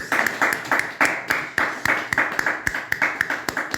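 A congregation at a midday prayer service claps in a steady, rhythmic beat, the sharp claps repeating close together over a continuous wash of voices acclaiming.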